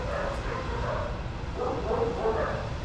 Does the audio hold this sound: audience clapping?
no